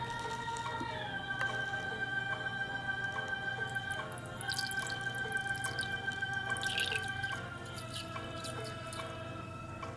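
Slime activator solution poured into a tablespoon while making pink glitter slime, a soft steady trickle with faint dripping over a constant background hum and tones, no talking.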